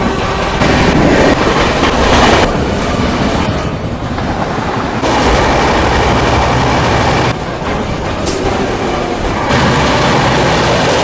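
The Sanghamitra Superfast Express, train 12295, runs loud and close, with a constant roar of wheels and rhythmic clickety-clack over rail joints and brief squeals.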